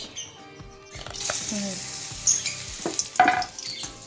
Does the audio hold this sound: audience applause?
no